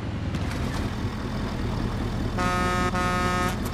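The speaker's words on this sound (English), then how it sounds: "Don't honk at me" A vehicle horn blares in the Fortnite video game, a sustained harmonic honk arriving late over a steady rumbling engine-like background, loud and close with no talk.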